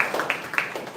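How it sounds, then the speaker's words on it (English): Audience applause at a Toastmasters club meeting, a brief patter of a few hands clapping at moderate volume. "applause."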